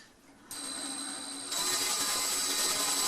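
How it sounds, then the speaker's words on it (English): A power drill or driver runs steadily while driving screws up through the holes in a closet shelf framework, a whining motor tone that starts after a brief pause and grows louder partway through, close and continuous without talk. "there's a couple of holes that you just drive the screws up in through there"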